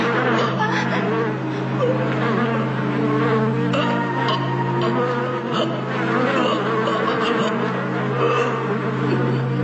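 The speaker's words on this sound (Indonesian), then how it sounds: "maka lebah-lebah ini akan segera menyerang siapa saja orang yang berada di dekatku" A swarm of bees drones in an animated Hunter x Hunter episode, a dense, continuous buzz over a low steady hum, loud and unbroken from start to finish.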